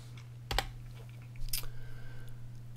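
A few brief clicks on a computer keyboard as a value is typed, up close and quiet over a steady low electrical hum.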